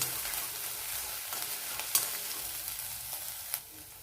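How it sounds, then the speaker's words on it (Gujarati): Chopped garlic and ginger, with green chilies, sauté in oil in a pan, giving a soft steady sizzle with a few clicks of stirring, quiet and close. "નાનો ટુકડો આદુ છે અને 6-7 કળી લસણ છે, એને આપણે સાતળી લેવાનું"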